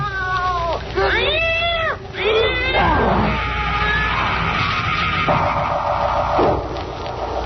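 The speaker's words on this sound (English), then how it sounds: "Here, kitty. Don't go away, kitty." A cat meows several times in quick succession, close and loud, its calls rising and falling over a tense, foggy outdoor scene in an old radio mystery drama, with a low musical drone continuing beneath.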